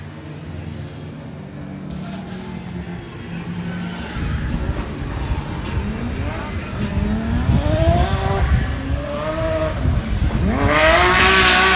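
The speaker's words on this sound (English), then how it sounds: "got Andreas Wax with his 2JZ S14 going into clip 4" Toyota 2JZ-powered Nissan S14 drift car at a Driftkings practice session. The engine note is distant at first and builds louder as the car revs hard and sweeps past, pitch rising and falling through transitions, with an announcer speaking over it.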